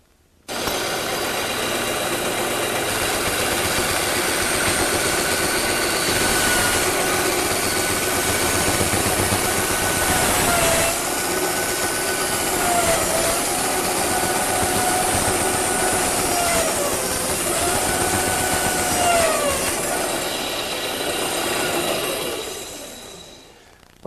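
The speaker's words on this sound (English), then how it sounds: "I think I'll cut them over on the bandsaw" A bandsaw cuts arcs in wooden leg parts with a loud, steady mechanical whir, and its pitch dips and bends as the curves are followed. It runs for about twenty seconds and then winds down at the end.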